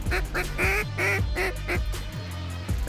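Ducks quack repeatedly in quick, nasal bursts as a flock flies in over a hunting spot, several calls overlapping in an irregular chatter, fairly near and moderately loud with wind noise underneath.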